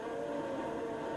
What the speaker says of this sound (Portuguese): O som da Fórmula 1 está no ar aqui em Interlagos.